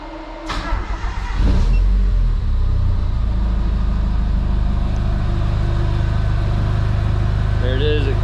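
A Nissan 240SX with a CA18DET engine cranks briefly, catches and settles into a loud, steady, close-up idle that runs for several seconds.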